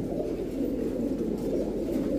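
Steady, low cooing of Giribaz high-flyer pigeons, continuous and fairly loud, with soft overlapping throaty calls and no talking.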